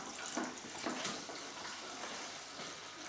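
Homemade wine from a kit siphoning through a tube into a secondary fermenter, a steady, fairly soft stream of trickling, splashing liquid with no pauses and no voices.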